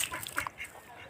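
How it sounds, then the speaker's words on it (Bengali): Ducks quack faintly in a short burst of a few overlapping calls, at a distance. "দেখছেন তো কতগুলো হাঁস"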